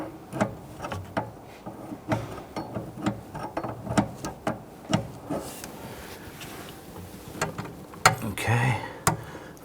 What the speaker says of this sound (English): Now we're just going to go ahead and loosen both of those and undo those lines.